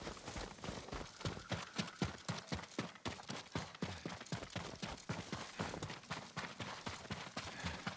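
Steady clip-clop of horse hooves walking on hard ground in the video game Ghost of Tsushima, a continuous rhythmic run of hoofbeats over a busy game background.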